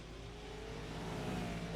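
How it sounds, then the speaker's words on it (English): Supercars championship racing-simulator engine audio at the Red Bull Ring, a continuous droning engine with gradually rising pitch as the car revs, steady and moderately loud with no talk. "There's engine noise."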